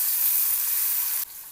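Cumin, asafoetida, dried red chillies, green chillies and chopped onion sauté in hot oil with a loud, bright sizzling hiss that cuts off abruptly near the end, leaving a faint residual crackle.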